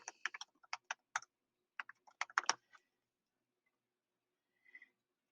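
A folder name typed on a computer keyboard: a quick burst of crisp, close keystrokes for under three seconds, then silence with a couple of faint taps at the end.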